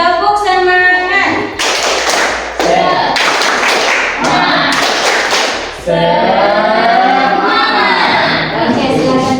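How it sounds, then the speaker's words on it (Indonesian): A classroom group performs a rhythmic spirit-clapping routine, with bursts of claps and taps in a patterned beat mixed with loud chanting voices and sung phrases throughout. "Kita stretching dulu ya supaya tambah semangat. Tepuk semangat."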